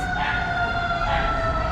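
A fire engine siren wails on a city street at night, a steady two-tone howl held loud and fairly close over the low rumble of traffic.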